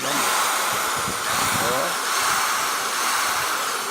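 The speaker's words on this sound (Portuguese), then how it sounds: "Então a gente vai fazer o furo realmente para ela transpassar por outro lado" A power drill bores a hole through a PVC piece for a domino scoreboard, a steady close whirring hiss that runs throughout the short stretch, loud and continuous.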